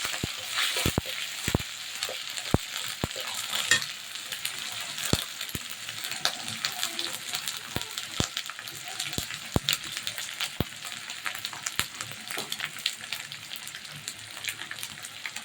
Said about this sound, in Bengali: এখন আমরা পেঁয়াজ মরিচ বাটা দিব।